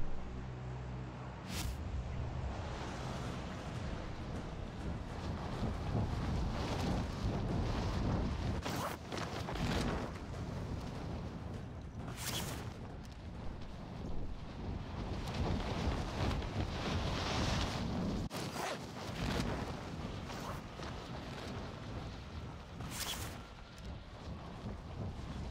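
Continuous rumbling battle noise from Call of Duty: Warzone, with sharp gunfire cracks standing out every few seconds over a dense, steady, windy roar; nobody talks.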